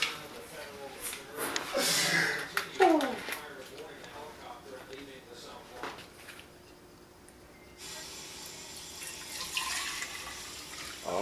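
Kitchen tap water runs into a sink during rinsing while cooking an omelet, splashing loudly in bursts at first, then a quieter lull before the flow surges again.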